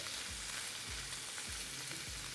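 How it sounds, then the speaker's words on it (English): Andouille sausages pan searing for a Cajun crab boil, giving a steady loud sizzle with a few soft low thumps spaced evenly through it. "I like to pan sear these just to give them some color"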